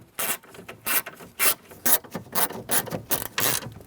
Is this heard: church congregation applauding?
no